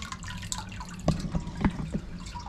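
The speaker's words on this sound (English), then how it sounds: "You can see there's water trickling in." Water trickles and drips into a boat's technical compartment, a low steady flow with a few distinct drip splashes standing out near the middle.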